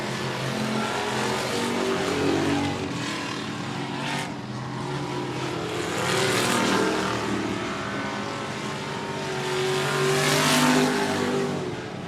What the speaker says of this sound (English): Leading this lap with 3 to go, the 34 machine of Drake Graham